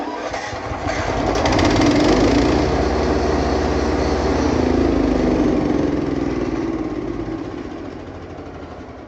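The petrol engine of a Rock Machinery 13hp wood chipper starts up and runs steadily at a loud, even drone for several seconds before tapering off.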